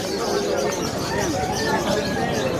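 Caged birds at a pet market in Malabon give busy chirps and coos in a steady babble, close by, with people talking throughout.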